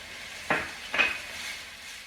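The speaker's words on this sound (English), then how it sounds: "We're going to cook that for about a minute because I don't want the garlic to burn." Garlic cooking in a pan for a Jamaican-style lasagna, with a soft sizzle and two brief stirring scrapes of a utensil against the pan, heard close with no talking.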